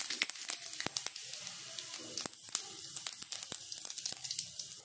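Cumin seeds crackle in hot oil in an iron kadai, already holding cloves, cardamom and black pepper, giving a steady close sizzle broken by many sharp, scattered pops.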